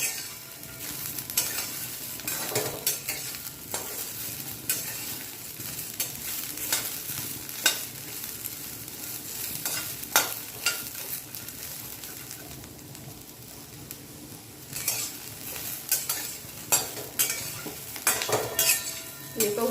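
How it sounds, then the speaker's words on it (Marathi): Cluster beans and peanuts dry-roasting together in a steel wok, with steady scraping stirs of a spatula against metal, light crackling and rattling of the pieces, close and continuous. "गवारी शेंगदाणे हे सगळं सोबतच भाजलं जातं चांगलं"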